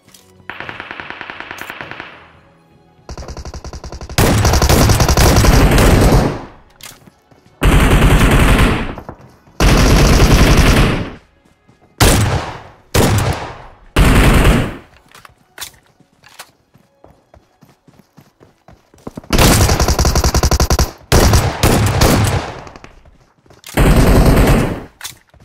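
Shotgun gunfire in the mobile game PUBG Mobile rings out in loud, repeated bursts of rapid blasts separated by short quiet gaps, with faint footsteps between volleys and no talking.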